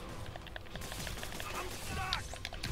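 Rapid bursts of gunfire ring out in the Spider-Man PS4 video game, crackling in quick overlapping volleys amid chaotic in-game sound.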